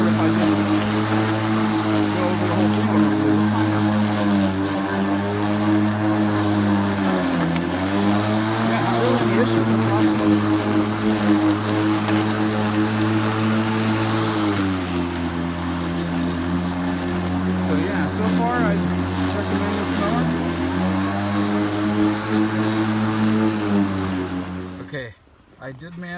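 EGO LM2101 battery push mower cutting grass: a continuous electric motor whine with a steady hum, dipping in pitch as the blade loads up in the grass, then cutting out abruptly near the end.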